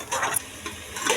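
Masala frying in a pan for egg gravy, a steady soft sizzle with occasional scraping stirs and light clinks of a utensil against the pan.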